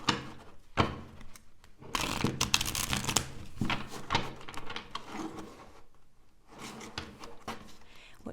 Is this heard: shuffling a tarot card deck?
yes